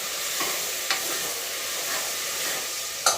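Vegetables sauté in an open pressure cooker with a steady, close sizzle, broken by a few soft clicks of stirring.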